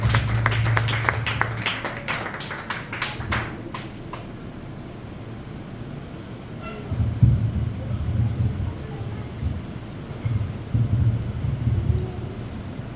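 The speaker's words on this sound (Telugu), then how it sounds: "గట్టిగా చప్పట్లు కొట్టి యేసయ్యని మహిమపడుతూ ఉంటారు." A church congregation at a Pentecost fasting meeting in Vinukonda claps in a quick burst of sharp hand claps near the start, then fades under low rumbling voices and hall noise.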